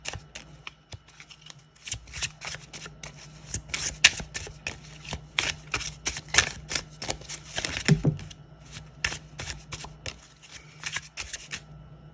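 Tarot cards are shuffled by hand close up, a rapid run of crisp riffling and slapping bursts in uneven rhythm that continues throughout, with a few cards flicking loose.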